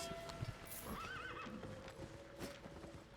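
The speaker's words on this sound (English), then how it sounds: "Two horse sounds, another horse sound." Horse neighing and whinnying with clip-clop hooves in the Albion Online video game, a short whinny over soft hoof beats, moderately near, with no talk.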